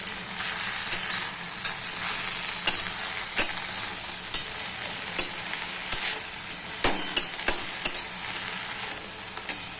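Fenugreek greens (methi bhaji) sizzle steadily in a pan while a spoon stirs them, its scrapes and taps landing about once a second, close and clear.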